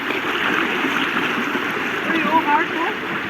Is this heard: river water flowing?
yes